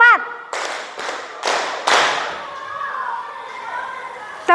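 Children in a classroom clap a four-beat pattern together. Four crisp, evenly spaced group claps follow a short spoken call, then ring out into a quiet room with light murmuring.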